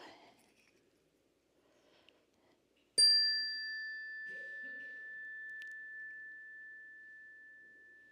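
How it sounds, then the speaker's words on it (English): A single bell struck during a Sunday church service, one clear ring that sustains and slowly fades for several seconds in an otherwise quiet room. "And here is the bell."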